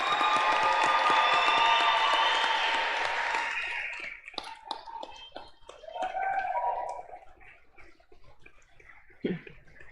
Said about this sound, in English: Please join me in giving our new alumni one more round of applause